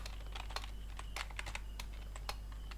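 Quick, irregular keystrokes on a computer keyboard while C code is typed, soft close clicks in uneven bursts over a steady low hum, with no voices.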